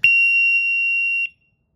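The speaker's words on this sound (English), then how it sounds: "when we test it, we're going to have a yellow and red indicator as well as a loud noise." A plug-in carbon monoxide detector with a digital display sounds its test alarm: one loud, sustained high-pitched electronic tone lasting just over a second, then silence.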